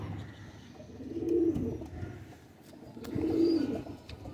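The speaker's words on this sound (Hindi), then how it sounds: "यार बहुत अच्छा कबूतर" A Kasuri pigeon, a prized fancy breed, gives two soft low coos about two seconds apart, close by, over a faint murmuring background with no talk.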